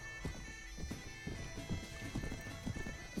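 A horse's hooves clip-clop steadily at a quick, even pace in the Mount and Blade: Warband video game, moderately loud and close, with no speech over them.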